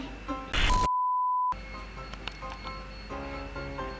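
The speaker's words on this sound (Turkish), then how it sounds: "Alarm çalıyor." A single sustained electronic alarm beep sounds for about a second against quiet room noise, preceded by a short rustle.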